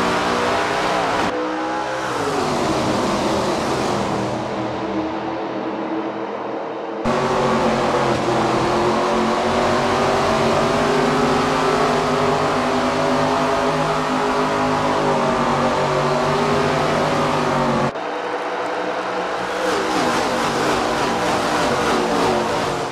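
Super late model race cars roaring away at the green flag at Indianapolis Raceway Park in the SRX racing game, loud sustained engine drone with rising revs and gear changes, continuous and close.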